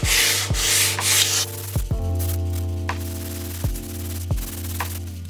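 Sandpaper wrapped around a tool rubs over the ridges of a BMW K100 valve cover during wet sanding, giving close scratchy strokes in an irregular rhythm, with sharp knocks between passes.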